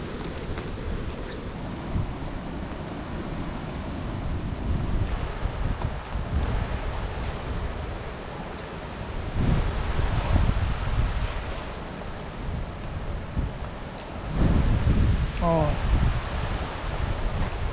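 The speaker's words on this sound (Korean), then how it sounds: "와 바람 엄청 분다" Strong wind roars across the Gongryong ridge on Seorak mountain in a steady, loud broadband rush that swells in gusts, with a brief voice near the end.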